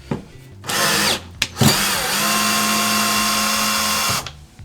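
Battery-operated cordless drill running steadily while backing screws out of plywood lining inside a van, a short burst followed by a longer sustained whine, close and loud with no talk.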